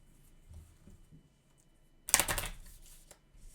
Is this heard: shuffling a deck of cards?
yes